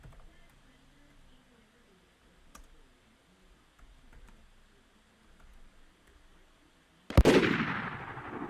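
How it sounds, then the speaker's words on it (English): A single loud gunshot-like blast cracks out near the end after several seconds of quiet room noise, followed by a lingering ringing tail, with gunfire aimed at the people there. "We are being fired at"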